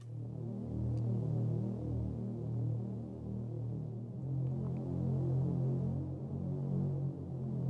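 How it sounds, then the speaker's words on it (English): A deep, droning synthesized bass tone made in Omnisphere throbs steadily throughout, low and sustained with a faint pulsing texture and no voices. "adding deep sounds like this, some bass. I used Omnisphere for this specific one."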